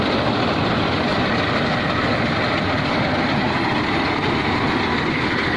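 A paddy-straw loading machine driven by an Arjun 555 DI tractor fills a farm trolley, giving a loud, steady, continuous roar of engine and machinery with no break and no voices.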